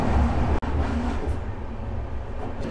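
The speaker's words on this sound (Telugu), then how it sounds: "ట్రైన్ ఇట్లా టర్న్ అవుతుంటే ఈ కర్వ్ షేప్లో ట్రైన్ మాత్రం మస్తు అనిపిస్తుంది" The Araku Valley train rumbles steadily along the track through forest on a curve, a deep continuous rolling roar with one brief dropout and no voices.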